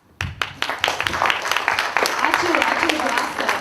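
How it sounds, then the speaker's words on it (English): An audience at a jazz education seminar at Klaipėda Eduardas Balsys Gymnasium of Arts breaks into applause. Many hands clap in a dense, lively patter that starts abruptly and carries on steadily, while a voice speaks briefly over it. "Yeah, let's clap."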